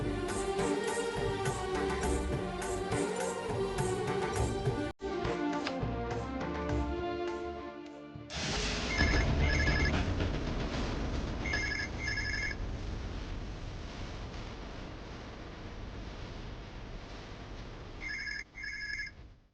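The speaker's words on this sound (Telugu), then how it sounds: "రిసెప్షన్లో ఎవరు లేరా ఏంటి? ఫోన్ లిఫ్ట్ చేయడం లేదు." A telephone at a hotel reception desk rings unanswered, sounding in repeated short ring bursts over background music that shifts partway through.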